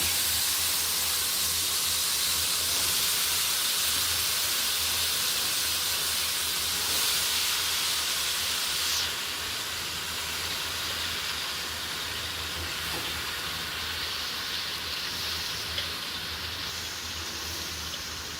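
Vegetables dropped into a hot pan while cooking a Gujarati thali at home, giving a steady loud broadband sizzle and hiss that holds close and continuous throughout, with no break.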